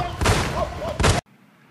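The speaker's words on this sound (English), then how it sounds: "Gunshots." Gunshots ring out in two loud, close bursts over about a second, then the sound cuts off abruptly into near silence.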